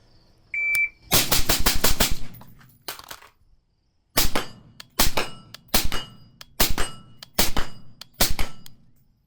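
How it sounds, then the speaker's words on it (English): Rifle shots fired at steel targets ring out as loud, close rapid strings, then a short quiet reload gap, then six evenly spaced controlled shots, with a brief electronic beep at the start. "use that 50-yard zero first red dot for 6 controlled shots out there at the steel with a reload in between"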